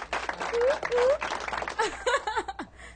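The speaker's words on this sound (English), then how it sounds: "Let's take a round of applause." Brief applause and cheering at a radio show, with lively voices shouting over it, some whoops and laughter mixed in, fading within a few seconds.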